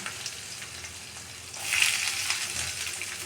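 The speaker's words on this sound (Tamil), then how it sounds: "இந்த ஸ்டேஜில் நம்ம கட் பண்ணி வச்சுருக்க ஒரு 3 வெங்காயம், பெரிய வெங்காயம் போட்டுக்கலாம்." Chopped large onions dropped into oil with popped fennel seeds, sizzling in a steady soft crackle that swells a little louder midway, with no talk.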